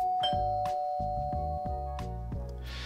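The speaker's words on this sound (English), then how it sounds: "the doorbell rang" A ding-dong doorbell chimes repeatedly in a series of clear, close tones that ring on under a sustained hum, ending in a brief burst of noise.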